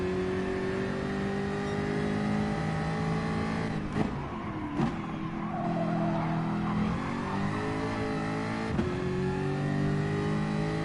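A Jaguar race car revs hard around the Bathurst circuit in a racing video game, its engine a steady high-pitched drone with several brief dips at gear changes, loud and close throughout.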